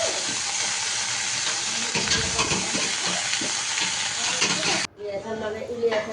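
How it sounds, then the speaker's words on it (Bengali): Cauliflower and potato pieces sizzle steadily in hot oil with a light sprinkle of salt, a loud continuous fry with stirring scrapes throughout, briefly dropping and then resuming as quieter crackling near the end. "এখানে ফুলকপি আর আলুটা তেলে ভেজে নিচ্ছে হালকা একটু লবণ ছিটিয়ে দিয়ে"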